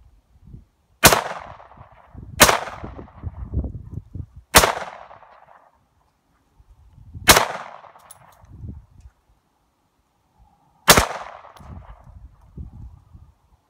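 Five loud, sharp rifle shots from reloaded .223 ammunition fired at soda cans and bottles outdoors, spaced a few seconds apart, each followed by a short echoing tail, with faint rustling between shots.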